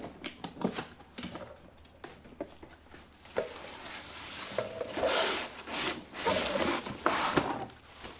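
Cardboard packaging of a Toro model 66120T tool-only hedge trimmer being opened by hand, with irregular close rubbing, tearing and scraping rustles of moderate loudness and no talk.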